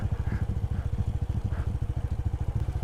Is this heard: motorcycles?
yes